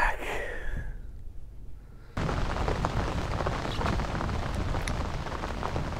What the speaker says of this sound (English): it seems appropriate that it started raining immediately after the one that got away.